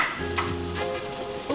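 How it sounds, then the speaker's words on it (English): Paste frying in a pan over medium heat for a steak and ale pie, a steady close sizzle with bubbling crackle and a low hum underneath. "Just gonna cook this up, let it fry."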